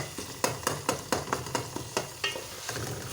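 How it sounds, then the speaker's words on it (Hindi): Tomatoes frying in a pan for a guar and fish curry, stirred with a spoon in regular scraping strokes over a steady sizzle, close and clear. "लेकिन थोड़ा सा जो कहीं कहीं से साबित है टमाटर, इसको मैं भून लेती हूँ"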